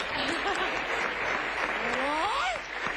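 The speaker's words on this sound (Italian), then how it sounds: "Un applauso in memoria di Raul." A theatre audience at a comedy sport show applauds in a sustained, full roar of clapping, with a voice rising and sliding through the noise near the end.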